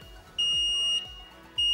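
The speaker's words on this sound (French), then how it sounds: "en fin de nettoyage, la machine émet un bip" A Bardahl DPF cleaning machine signals the end of its cleaning cycle with three sharp, high electronic beeps, evenly spaced about half a second apart, close and clear over a faint background.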